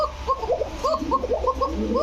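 Pigeons cooing in soft, repeated throaty bursts, several birds overlapping close by in a pigeon loft with fancy breeds, no talking.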